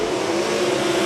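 Nebraska 360 sprint cars racing in a heat race at Park Jefferson Speedway, a steady, continuous engine roar that stays loud and even throughout the short moment with no breaks.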